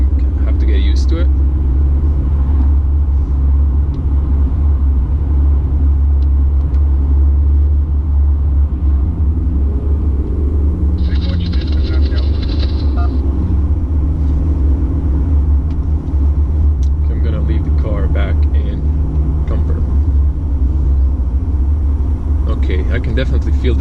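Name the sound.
Mercedes C-Class 220d diesel car driving on road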